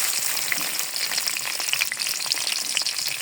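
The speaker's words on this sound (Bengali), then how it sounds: "কড়াইতে তেল দিয়ে দিয়েছি, পেঁয়াজ দিয়ে দেবো" Onions frying in oil in a wok, a close, busy crackle of fine spitting pops over a steady sizzle.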